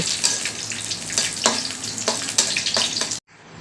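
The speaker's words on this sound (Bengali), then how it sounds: "কাঁচামরিচ আর 3টা শুকনো মরিচ আমি আগে ভেজে নিব" Green chillies and three dried red chillies fry in a pan, a dense, close hissing sizzle with periodic crackling bursts from stirring. It runs continuously, then cuts off abruptly near the end to quieter background.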